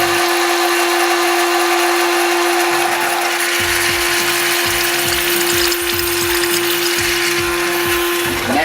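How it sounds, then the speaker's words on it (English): The oil filter pump of an Anets 14GS fryer gives a loud, steady mechanical whine with a constant tone, joined partway through by rough gurgling and sputtering as it draws in air once the filter drawer is empty of oil. "we're starting to pump air, so there's no more oil left in our filter made drawer"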